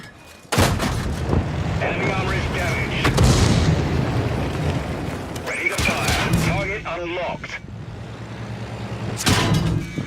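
A World of Tanks shell bounces off armor with a sharp metallic clang and ricochet whine among booming cannon fire and engine rumble. A voice speaks over the battle sounds.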